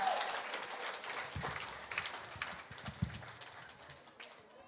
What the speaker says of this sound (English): Give them one more big round of applause while they're taking their chairs